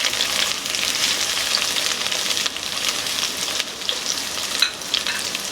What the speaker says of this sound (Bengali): এবার আমি দিয়ে দেব কেটে রাখা বেগুনগুলো। বেগুনগুলো আমি খুব ভালো করে নেড়ে দেব।